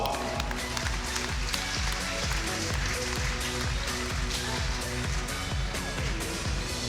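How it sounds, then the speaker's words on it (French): An audience applauds steadily after a horse presentation at a stallion show, sustained dense clapping from a large crowd with rhythmic thuds underneath. "Très applaudi."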